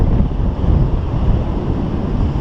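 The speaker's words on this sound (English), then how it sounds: "Feels like it got windy right here." Gusty wind buffets the microphone while paragliding over San Diego, a loud, broadband roar that surges and eases unevenly throughout.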